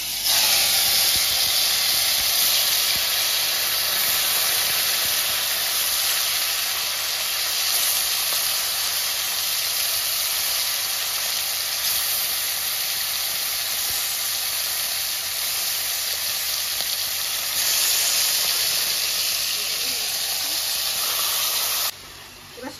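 Marinated fish pieces fry in a hot kadai with a loud, close, continuous sizzling hiss that holds steady for a long stretch, then cuts off abruptly at the end.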